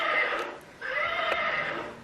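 A horse whinnies in two drawn-out, wavering bursts with a brief dip between them, fairly close and clear, with no talking.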